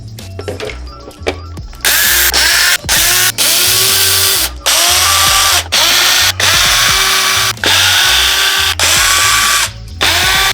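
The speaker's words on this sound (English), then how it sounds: "12 screws down with an electric screwdriver." Electric screwdriver running in repeated whirring bursts, the first short and the rest several seconds long, as it backs out the body screws on a Traxxas UDR 6S desert race truck. It is loud and close with brief pauses between screws.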